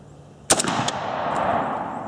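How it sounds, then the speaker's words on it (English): A Saiga 7.62 rifle fires a loud, sharp shot at a target outdoors, followed by a quick series of echoing cracks that fade into steady background noise. "Those 3 shots, that group was a little bit to the right."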